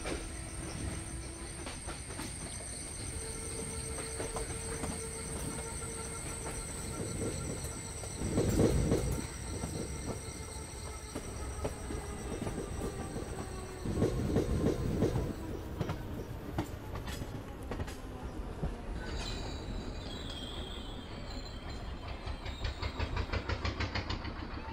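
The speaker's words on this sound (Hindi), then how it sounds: "अरे यार, एक और ट्रेन आ गई आईसीएफ में।" A train rolling along rail tracks in Kerala, a long continuous rumble with rhythmic wheel clatter, faint squeals and a steady tonal hum, moderately distant and unbroken throughout.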